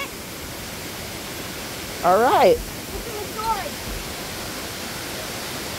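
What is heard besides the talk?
waterfall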